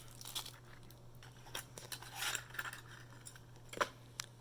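A small cardboard box of keyboard accessories for an Epomaker Skyloong SK61 is opened with a few crisp rustles, scrapes and light clicks, close and quiet, with no talking.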